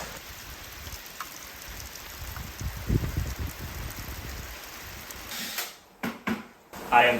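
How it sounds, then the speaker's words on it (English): Steady rain falls outdoors over a home roof-building site, a continuous soft hiss with a few louder bumps and brief dips near the end. "I'm sure they hit this rain."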